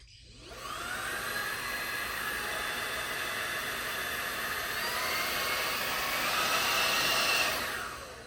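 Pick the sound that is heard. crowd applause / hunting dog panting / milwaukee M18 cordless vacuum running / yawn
milwaukee M18 cordless vacuum running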